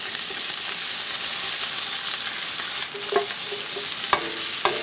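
Leftover turkey remnants brown in a pressure cooker, producing a continuous hissing sizzle with a few brief scrapes and clinks of a utensil stirring near the end.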